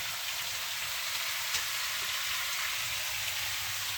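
Pork belly sizzles in an old frying pan, a dense steady crackle and hiss with occasional pops, close up and without talking.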